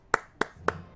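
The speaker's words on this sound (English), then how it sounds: "a round of applause for Bob the Tree" Four sharp, evenly spaced hand claps in quick succession, close and crisp, with no voices.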